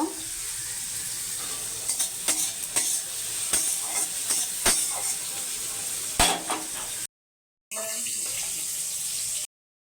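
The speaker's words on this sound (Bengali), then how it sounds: "আমি তেলে কষকরি মেথিটা দিয়ে দেবো টমেটো কুচিটা দেব" Fenugreek seeds and chopped tomato fry in hot oil for a Bengali egg curry, giving a broad steady sizzle with scattered sharp pops and crackles, cut off by a short silence near the end.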